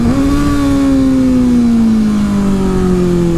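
A Kawasaki ZX6R idles with a LeoVince LV One EVO exhaust, baffle removed, giving a loud, close, steady drone whose pitch sags slightly over the few seconds, with no one talking.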